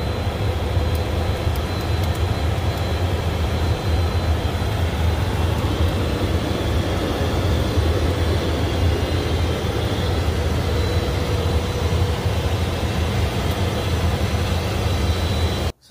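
Steady, loud roar of an Embraer Phenom 300 business jet climbing after takeoff, heard from inside the cockpit as a continuous broadband engine and airflow noise without pause.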